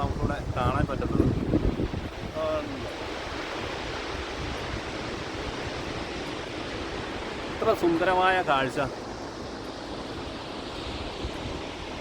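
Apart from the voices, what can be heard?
Jog Falls waterfall, Karnataka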